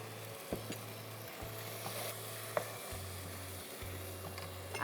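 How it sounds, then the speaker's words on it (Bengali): Whole green chillies go into beef rezala frying in a pan, giving a steady moderate sizzle with a few faint clicks and stirring knocks, with no talking. "আমি 2-3টা আস্ত কাঁচামরিচ দিয়ে দেবো ফ্লেভারের জন্য"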